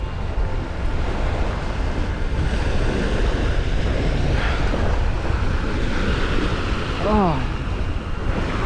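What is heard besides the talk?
ocean waves at Sarushima island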